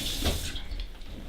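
Water poured from a tap into a pizza dough mix in a home kitchen, a soft splashing stream that fades and trickles quietly over just over a second.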